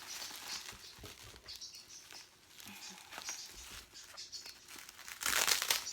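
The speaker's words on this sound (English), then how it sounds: "Gosh darn, this tape. There's so much tape." Packing tape is tugged and peeled off bubble wrap around a packed model horse, giving close crinkling, rustling and tearing sounds that build to a louder rip at the end.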